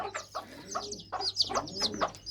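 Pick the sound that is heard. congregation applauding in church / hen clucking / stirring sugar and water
hen clucking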